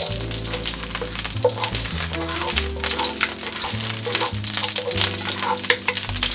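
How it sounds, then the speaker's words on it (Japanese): Cold rice fries in lard in a pan with a continuous crackling sizzle, laid over a steady musical backing of sustained tones. "ご飯を先に炒めますね。"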